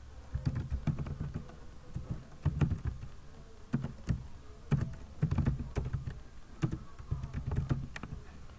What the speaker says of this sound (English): right here i type in my primary email which is